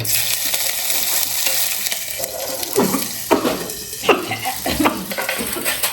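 Green chillies, cumin and mustard seeds sizzle in hot oil in a home kitchen pan, a steady frying hiss broken by several sharp stirring and popping bursts midway.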